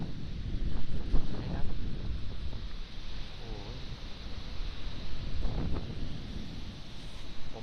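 Sea breeze blowing at Samila Beach in Songkhla, Thailand, roaring as steady wind buffeting the microphone with gusts rising and falling throughout. Someone talks faintly beneath it.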